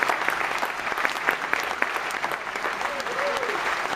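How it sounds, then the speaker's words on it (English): An audience at a tech-show season finale breaks into steady, dense applause, many hands clapping close together for several seconds, with a voice faintly over it. "Everybody give her a round of applause."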